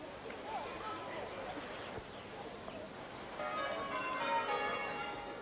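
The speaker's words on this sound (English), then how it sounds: "You can hear the bells calling him to his own service" Church bells ring for a service in an English village, their tolling growing clearer toward the end over a steady outdoor background hum.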